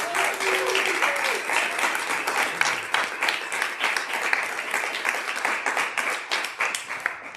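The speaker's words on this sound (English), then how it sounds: "please, round of applause for this wonderful panel" A conference audience applauds a panel on intelligent infrastructure, producing steady, dense clapping from a full room that stays strong and even throughout without a break.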